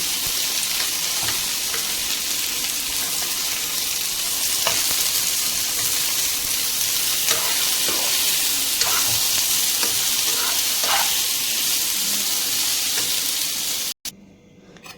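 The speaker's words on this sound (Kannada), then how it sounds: "ಒಂದು ಸ್ಪೂನ್ ಜೀರಿಗೆ ಅದು ಫ್ರೈ ಆಗಲಿ" Steady loud sizzling of a spoonful of cumin seeds frying in hot oil, with occasional crackles and pops throughout, cutting off abruptly near the end.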